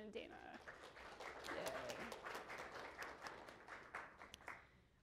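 Classroom audience clapping for two helpers at the end of an introductory Python tutorial class, a dense patter of many hands with a voice cheering over it, steady for about five seconds.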